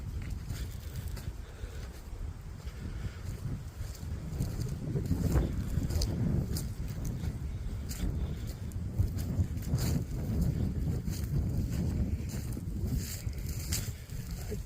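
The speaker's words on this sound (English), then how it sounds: "A little bit windy today." Wind gusting across an open pasture, a steady rough rumble and buffeting against the microphone that swells in the middle, moderately faint, with no talk.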